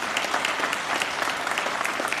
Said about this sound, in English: So yeah, that deserves a applause.